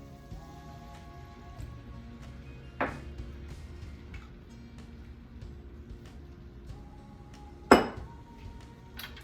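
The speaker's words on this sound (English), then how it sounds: "Let's mix everything together." Chicken marsala is stirred in a pan after brandy is added. A utensil scrapes and clinks against the cookware, with two sharp metallic knocks standing out over a soft simmering sizzle.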